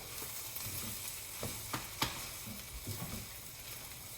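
Eggs and rice mixed together while frying in a pan, a steady sizzle with a few soft stirring knocks and scrapes and no talk.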